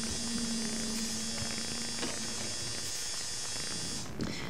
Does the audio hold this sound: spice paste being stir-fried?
no